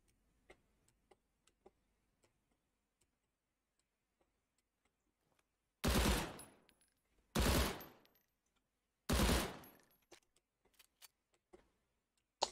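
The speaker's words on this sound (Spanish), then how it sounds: "He hecho esos tiros ahí" Three sharp, loud bursts of gunfire from the Krunker first-person shooter, each ringing out alone at roughly one-and-a-half-second intervals, framed by faint clicks and ticks before and after.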